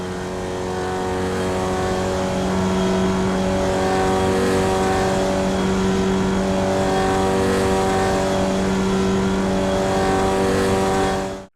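A Formula Vee race car engine in the iRacing sim at Summit Point drones loud and steady through a lap, its pitch holding almost level with slight rises, alone with no talk.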